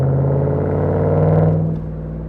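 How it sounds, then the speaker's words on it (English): A deep, throaty V8 engine in a Volvo S80 with a custom exhaust rumbles and revs steadily up close, holding a strong low drone before easing slightly near the end. "let's just listen to that beautiful V8."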